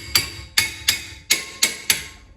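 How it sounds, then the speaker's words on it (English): Six sharp metallic taps of a mallet on a rusted rear brake rotor of a 2009 Chevy Equinox, struck lightly in an uneven rhythm, close and clear with no talking. "Lightly tap it, you know, with a mallet or a hammer lightly."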